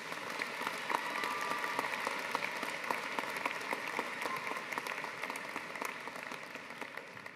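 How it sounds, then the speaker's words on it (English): A graduation audience applauds the valedictorian at a Faculty of Arts ceremony, with sustained, even clapping at moderate volume throughout, slightly distant. "Let's have another round of applause for your valedictorian."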